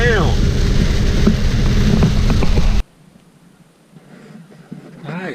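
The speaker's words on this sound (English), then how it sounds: "Boy, it is raining straight down." Heavy rain pours straight down outdoors on a farm, a loud dense hiss for about three seconds before the sound cuts to a much quieter background with faint patter.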